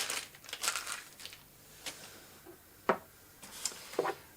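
Individual plastic bags protecting parts of a Technics SL-1200GR turntable crinkle and rustle during unpacking, in several short, sharp bursts over a quiet background with no talking.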